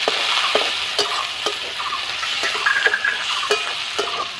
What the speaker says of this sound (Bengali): আমি এর মধ্যে ছোট ছোট করে কাটার টমেটো টুকরোগুলো দিয়ে দেবো